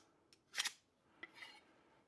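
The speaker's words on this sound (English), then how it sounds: "Okay, so I'm just going to score across here. The old screwdriver, as you do." Old screwdriver scoring a line across metal in a workshop during a VF Holden chair build, heard as a short, faint scraping scratch followed by a couple of lighter scrapes, quiet and close.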